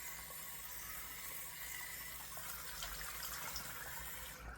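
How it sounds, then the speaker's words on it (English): A cold water rinse runs as a faint, steady, continuous gush of flowing water with no breaks. "Another cold rinse"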